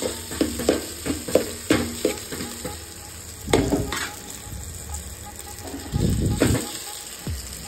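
Leftover rice tipped into a hot tempering in a pan and mixed by hand for a Marathi phodnicha bhaat, with a run of rhythmic stirring scrapes, bursts of sizzle and clatter, close and loud, no one speaking.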